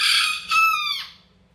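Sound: rooster crowing

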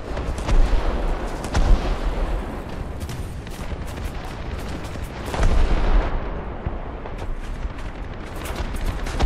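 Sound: bombs dropped on tank in War Thunder video game

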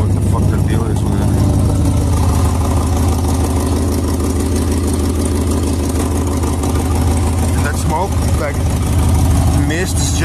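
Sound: old engine running while warming up

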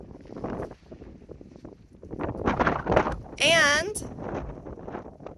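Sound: wind

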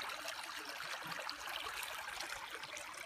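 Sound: small stream flowing

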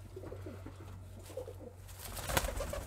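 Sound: pigeons cooing

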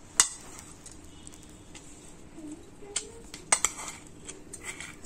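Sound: adding jaggery into flour in a bowl

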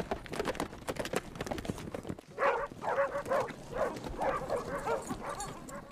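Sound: dogs barking

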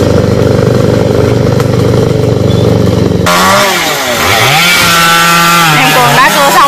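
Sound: chainsaw cutting Khaya (xà cừ) tree branches

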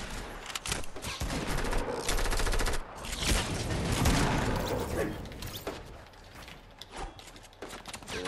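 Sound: gunfire in a video game

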